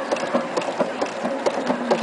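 A sewing machine fitted with a piping foot stitches slowly with clear monofilament thread, couching metallic threads, in a steady close rhythmic chatter of needle strokes, with no talking.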